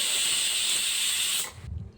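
A pressure cooker with mutton inside lets off a loud continuous steam hiss from its whistle, which cuts off abruptly, leaving a low rumble behind.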